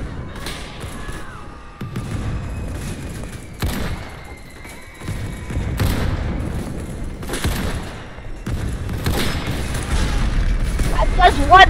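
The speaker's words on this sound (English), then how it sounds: "That's a grenade. I'm seeing grenades, bro." Grenade explosions and gunfire in a trench battle video game, with repeated loud booms and thuds bursting over a dense clatter of shots throughout, under excited talk.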